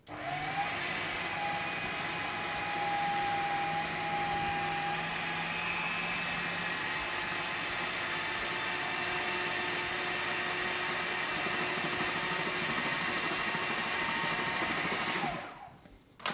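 A kitchen mixing machine whirs steadily at high speed, blending zucchini bread batter with egg for about fifteen seconds before cutting off abruptly near the end, a loud continuous motor drone with no talking.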